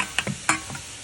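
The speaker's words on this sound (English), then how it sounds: "Just to get it to sizzle like that. It cooks the soy sauce and it changes the flavor a little bit." Soy sauce hits a hot pan with rainbow trout and gives a short, close hiss with a couple of quick stirring clicks.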